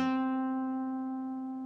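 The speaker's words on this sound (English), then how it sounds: "you will play a vibrato here" A single plucked guitar note from a song's intro rings out clearly and sustains, fading slowly with a gentle wavering vibrato.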